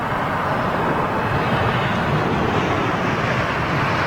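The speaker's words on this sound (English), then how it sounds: "Boeing 747 going out, runway 27 left." A Boeing 747 jetliner departs runway 27 left at London Heathrow, its broad, steady engine roar filling the air at loud, constant volume with wind buffeting the microphone.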